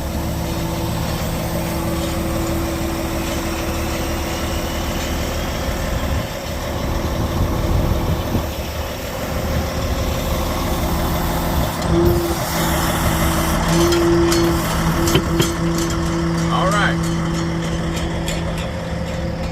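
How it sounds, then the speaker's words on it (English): A fire truck engine idles with a steady drone while its hydraulic mast is lowered, and a sustained tonal hum runs under it, joined later by hisses and clanks of the lowering gear. No one speaks. "go to hydraulic and lower the mast"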